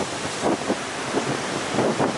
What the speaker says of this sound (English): I'm just trying to work out how to shoot this behind me with all these big waves